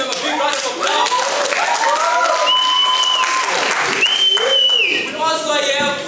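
An audience at a Christian college drama event applauds in a sustained, dense patter of clapping and cheering that continues throughout, with a few shrill whistles rising above it.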